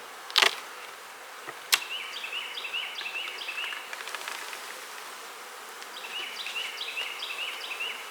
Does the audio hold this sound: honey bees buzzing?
yes